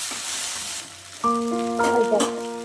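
Eggs for egg chow mein fry in a pan with a steady sizzle. A sustained tonal hum joins partway through and sits over the frying.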